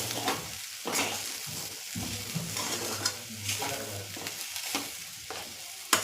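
Sweet potato and carrot halwa roasting in ghee in a pan, with a steady close sizzle and repeated scraping stirs at a regular rhythm, no voices.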